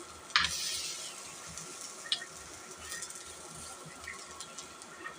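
Mushrooms frying gently over low heat in a pan, a soft steady sizzle with a few clinks of stirring near the start; quiet and close, no one talking.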